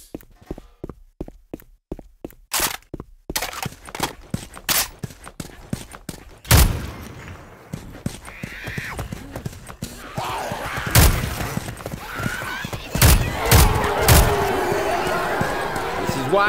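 Gunfire in Left 4 Dead 2 during a solo zombie fight: a rapid run of sharp, loud shots at the start, then scattered heavier bursts mixed with game noise and movement.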